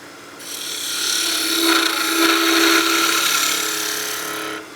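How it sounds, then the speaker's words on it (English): A 1/2 inch spindle gouge cuts a spinning top blank of wood on a lathe, giving a steady, close rasping hiss that swells in the middle and fades at the end, with no talk. "Now we can start with our 1/2 inch spindle gouge."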